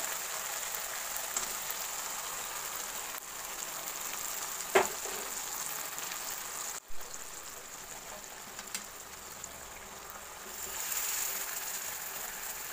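Peas and cream (malai) cooking on a high gas flame hiss with a steady, soft sizzle throughout, punctuated by a couple of faint clicks or taps, with no talking.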